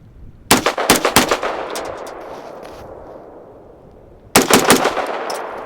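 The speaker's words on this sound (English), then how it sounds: "Shoot past the camera a little bit." Foxtrot Mike M-102 firearm fired outdoors in two rapid bursts several seconds apart, each a loud string of sharp cracks with a ringing echo that slowly fades between them.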